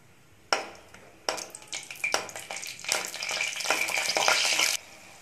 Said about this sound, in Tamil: உங்களுக்கு தேவையான அளவுக்கு முந்திரி எடுத்து நெய்யில் நல்லா வறுத்து எடுத்துக்கலாம்